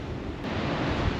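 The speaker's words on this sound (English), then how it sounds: "There's just been some huge waves come right over and like nearly take out some people." Ocean surf surging over coastal rocks at Injidup Natural Spa on the Cape Naturaliste coast, a steady, close broadband wash of churning water with wind rumble and no voices.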